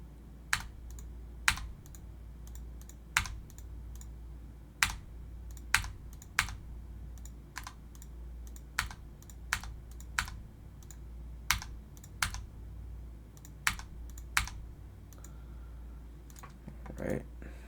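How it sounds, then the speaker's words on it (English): Scattered keystrokes on a computer keyboard while coding, sharp distinct clicks spaced irregularly over a low steady hum, no talking. "gotta type things in"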